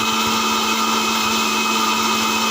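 An electric blender grinds tomato, chili and a little ginger into a paste, its motor a loud, steady high-pitched whine with a constant drone that runs unbroken the whole time, no voices over it.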